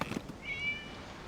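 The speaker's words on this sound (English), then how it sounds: "It was just a cat." A single cat meow in the Genshin Impact video game, a short rising tonal call standing alone against quiet background ambience.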